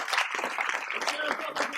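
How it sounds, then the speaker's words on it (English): Audience clapping at a community question-and-answer event for El Niño preparedness, a short, moderately faint burst of applause with a voice speaking over it. "can we give a big round of applause for Kevin James?"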